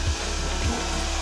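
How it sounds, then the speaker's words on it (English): A heat gun blows a steady airy whoosh over MGB seat leather, with a continuous hum and a few low thumps, fairly loud and close with no talk. "we'll just apply a bit of heat using the heat gun"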